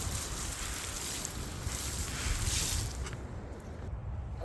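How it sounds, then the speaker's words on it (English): Strong wind buffets the microphone in a steady, loud roar that eases slightly near the end. "And it's really windy today"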